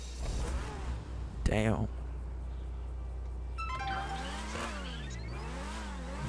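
Ferrari engine in GTA 5 revving hard with rising and falling pitch sweeps, plus a brief tire squeal near the start, all under a steady low game hum and a short spoken word.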